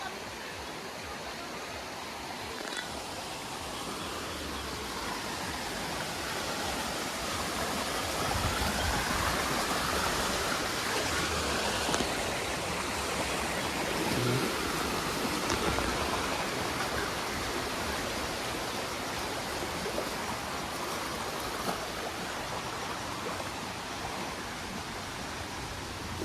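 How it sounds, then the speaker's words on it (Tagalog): Heavy rain pours in a dense, steady hiss without letting up, with faint voices murmuring now and then underneath. "Uy, kusog lang. Ulan ito."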